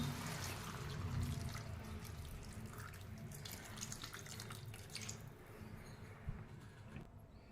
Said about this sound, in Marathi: आता यात घालणार आहोत आपण पाणी